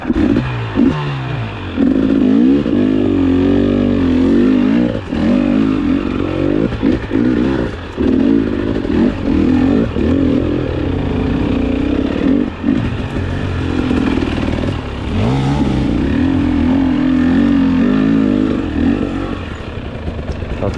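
An enduro motorcycle engine runs loud and close for about twenty seconds, revving and idling in a rough, throbbing drone with repeated surges and dips and occasional clatter.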